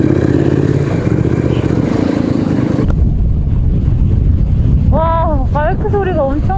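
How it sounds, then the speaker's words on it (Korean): Motorcycles pass on a road near Yongin under a heavy, constant rush of riding wind, with engine whines rising and falling close by toward the end. "잠깐 봤는데 오토바이 수십 대가 지나갔네"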